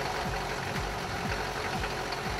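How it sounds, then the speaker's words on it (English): A Mercedes diesel car engine idles with a steady rattling knock, its low rhythmic pulses repeating evenly under a continuous mechanical hum. "And there we go, car starts right up."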